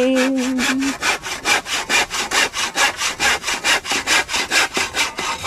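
A new hand saw cuts steadily through wood in a fast, even back-and-forth rhythm of rasping strokes, loud and close, after a brief hum at the start.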